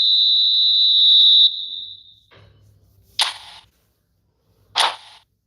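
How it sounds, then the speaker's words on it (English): A referee's half-time whistle in the eFootball video game: one long, shrill blast lasting over a second, followed by two short, sharp bursts of sound after a brief low rumble. "There's the whistle for half-time."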